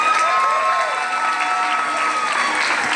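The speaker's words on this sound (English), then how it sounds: "Round of applause for Tom." Audience applause and cheering fill a 2022 Spirit of Stonewall rally, a steady, dense wash of clapping with shouts mixed in, sustained at even loudness throughout.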